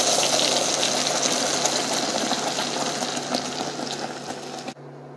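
Sauce mixture pours into hot butter and oil in a pan, making a loud, dense, continuous sizzle that fades slightly before stopping abruptly, leaving a low hum.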